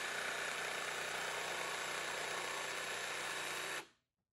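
A Milwaukee M12 Fuel jigsaw with its dust blower switched off cuts steadily with a loud, continuous buzzing whine for nearly four seconds, close by, then stops abruptly into silence.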